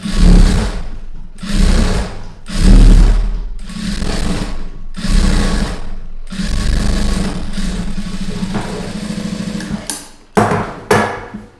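A sewing machine stitches along the lining side of a garment's neckline, running in roughly six close, loud bursts of rapid whirring separated by brief pauses, with no talking.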